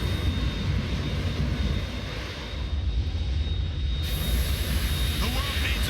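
A Harrier jet in the video game Metal Gear Solid 2, with a loud, steady engine roar that fills the whole stretch without a break.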